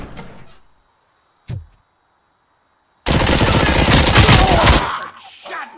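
A burst of rapid gunfire hitting the player in the video game Robocop Rogue City, loud and sustained for about two seconds after a couple of short mechanical clunks and near silence.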